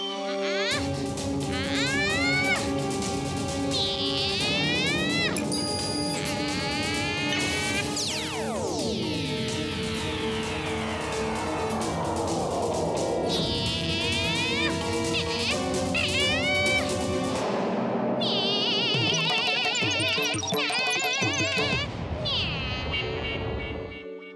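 A cartoon robot cat meows in a Marathi-dubbed animated episode, its repeated electronic-sounding cries rising and sliding over a busy, loud soundtrack of music and effects.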